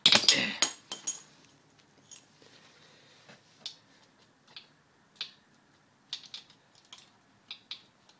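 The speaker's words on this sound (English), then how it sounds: "Alright, I guess I'll just take these bolts off." A hand tool loosens bolts during a teardown of a 155z, giving scattered ratcheting clicks and light metallic ticks close by, with a louder burst of clatter at the start.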